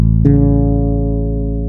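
A sustained low fretless bass note played slightly sharp hums steadily, a slight pluck near the start, then rings evenly and smoothly without fading much.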